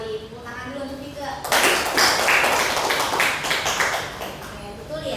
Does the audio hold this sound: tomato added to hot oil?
no